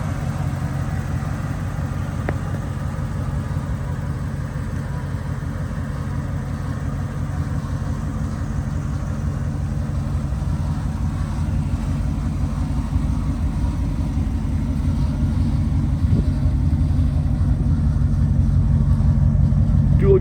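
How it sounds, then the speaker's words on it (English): A cold 1992 Ford F-250 with a 460 big block V8 and dual exhaust idles steadily with a deep, even low rumble that stays constant throughout, no revving. "Dual exhaust is not too loud, very tasteful, nice little rumble to it"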